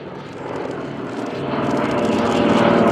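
A Nakajima B5N Kate propeller warbird drones overhead at an airshow, its engine roar steady and growing louder as the plane approaches.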